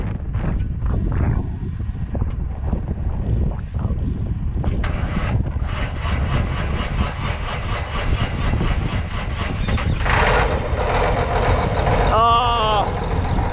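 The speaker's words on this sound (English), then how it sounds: "I love that Cummins engine" A Cummins engine on a big four-wheel drive tractor cranks and starts outdoors, then settles into a steady, close diesel rumble under wind noise, with people talking over it.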